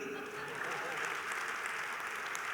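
Listeners at a Hindi poetry recital (kavi sammelan) clap together, a faint, even wash of applause heard from a distance that holds steady throughout.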